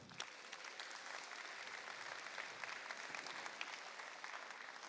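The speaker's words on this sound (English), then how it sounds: "Again, let's give another big round of applause" Sustained applause from an audience at a FIRST robotics district event at Bonney Lake, steady and fairly distant, with a dense wash of clapping holding evenly throughout.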